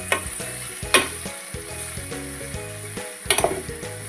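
North Karnataka-style bitter gourd palya sizzles loudly in a pan as it is stirred, with a constant fry hiss broken by sharp clinks and scrapes of the spoon against the pan.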